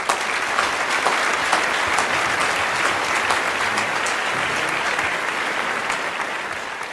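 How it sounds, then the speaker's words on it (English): An awards ceremony audience claps steadily for an honoree, a dense even wash of hands that carries on for several seconds at moderate level before easing slightly, with no voices on top. "Let's give him a big round of applause."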